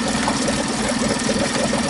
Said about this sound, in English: Now on an engine flush, which is what we're doing here, you want to leave it after a session.